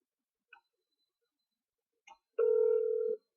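A phone call goes to voicemail with a couple of faint clicks, then a single clear electronic tone held for under a second, with no one talking.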